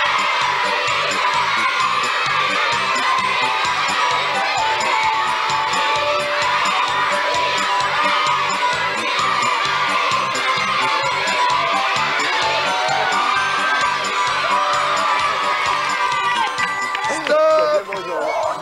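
Studio audience at a French children's TV game show cheering and whooping on the young contestants, a loud, continuous crowd roar with children's shouts and a host's voice over it.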